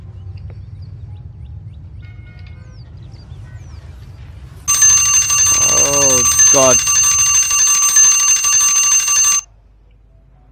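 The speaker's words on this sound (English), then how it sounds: "That scared me. That's the timer." SimCity's timer bell rings loud and sudden in one sustained metallic trill of a few seconds. It cuts through quiet game ambience, and a man exclaims over it.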